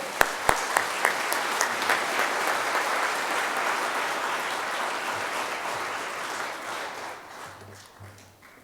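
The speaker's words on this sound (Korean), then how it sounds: "우리 박수로 맞아주시기 바랍니다." Congregation at a Washington Korean church breaks into sustained applause welcoming a guest speaker at a revival meeting, a few sharp claps up front, then a dense, steady wash that slowly fades toward the end.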